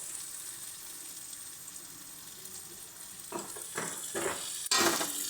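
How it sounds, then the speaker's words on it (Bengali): Ground dried chilli, cumin and coriander spices sizzle and fry in oil in a pan for a vegetarian lentil fritter curry, a steady quiet hiss, then scraping stirs grow louder toward the end. "ভালো করে সমস্ত মশলাগুলোকে একসঙ্গে মিশিয়ে নেব যতক্ষণ না মশলাগুলো কষে এগুলোর থেকে তেল ছাড়বে"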